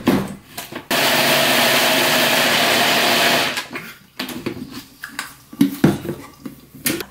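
A kitchen blender loudly grinds boiled rice with about 200 ml of water into a smooth paste for leaf mustard kimchi, a dense roaring whir lasting a few seconds, followed by knocks and clatter as it stops.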